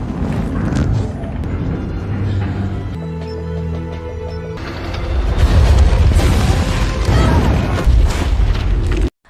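Film explosion destroying a machine box in Thunderbolts, a loud rumbling blast that swells after a brief tonal mechanical passage, with heavy low booming and debris noise.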